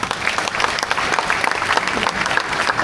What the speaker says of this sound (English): So, may we recognize them with another heartfelt round of applause.